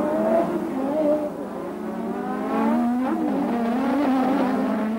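Race cars at the 1987 Detroit Grand Prix street circuit roar past, engines rising and falling as they accelerate and pass, heard steadily throughout at moderate distance.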